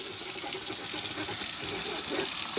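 Water runs steadily from a tap in a continuous close hiss, unbroken for the whole stretch.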